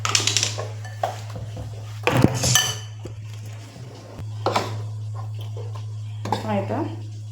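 Cake batter of flour, cocoa powder and milk being stirred in a bowl for mini cupcakes, with irregular clinks and scrapes of a utensil against the bowl over a steady low hum, close by.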